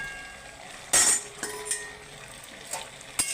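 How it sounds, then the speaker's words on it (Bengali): Eggplant pieces go into a pan where a vegetarian bottle gourd leaf dish is cooking, giving a sharp clatter and a few light clinks of utensils against the pan, close and otherwise quiet. "আমি এবার বেগুনগুলো দিয়ে দেবো।"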